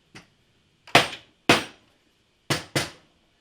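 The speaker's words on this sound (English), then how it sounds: "Now we'll give those a little tap. Because sometimes in the bending they'll open a little bit on the seams." Five sharp wooden taps ring out, one single and then two pairs, as a steamed, bent wood snowshoe frame is knocked to close its seams, each tap close and dry with a quick decay.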